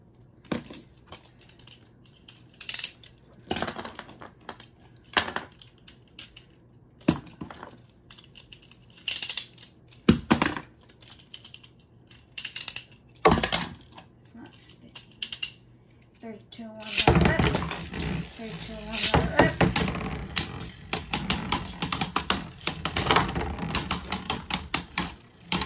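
Beyblade spinning tops launched and battling in a stadium, giving sharp scattered clacks and knocks, then a dense rattling grind of spinning tops clashing that runs to the end; a voice is heard briefly.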